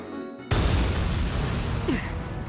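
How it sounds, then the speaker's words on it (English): A shipboard explosion in the video game Valkyria Chronicles 4 bursts in suddenly with a loud broadband boom, then rumbles on as sustained noise with a faint rising tone near the end. "An explosion has occurred on board."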